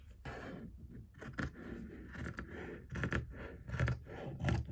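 Scissors snip off a frayed edge of washed fabric for a zipper pouch, giving several close, sharp cuts with scraping blade sounds in an irregular rhythm.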